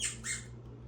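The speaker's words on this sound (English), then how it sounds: "If you hear something squeaking in the background, that's my dog playing with his toy." A dog chews a squeaky toy somewhere in the room, giving two quick high-pitched squeaks in succession over a steady low background hum.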